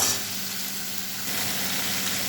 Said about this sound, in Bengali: তারপরে মাছের তেলের মধ্যে নুন হলুদ দিয়ে নাড়বো